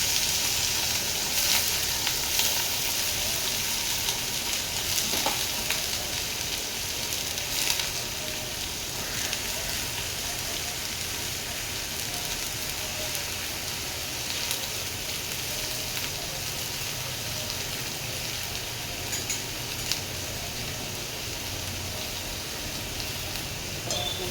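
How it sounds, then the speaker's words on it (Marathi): Chopped ridge gourd (dodka) frying in a pan over low gas, a steady close hiss and sizzle with faint crackles that runs unbroken throughout. "गॅस कमी करून घ्यायचा ना आपण त्यामध्ये टाकून घ्यायचं घेतलेला दोडका"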